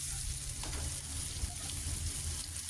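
Shami kababs fry in a pan with a steady, even sizzle of hot oil that holds at a moderate level throughout and has no clear breaks.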